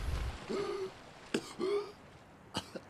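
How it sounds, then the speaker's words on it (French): Short throaty coughs from a player character running out of oxygen underwater in the survival game Subnautica, several brief bursts alone with vocal grunts between them. "Arrête de tousser."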